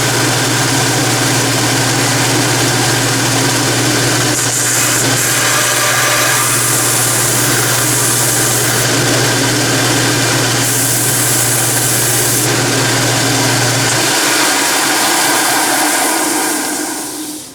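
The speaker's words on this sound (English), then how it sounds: "I'm going to take this over to the belt sander, and it'll just take 5 seconds and clean that off." In a workshop, a belt sander cleans excess Loctite off a part for a small oscillating steam engine, giving a loud, steady motor drone and grinding hiss that lasts about seventeen seconds, its low hum dropping away near the end.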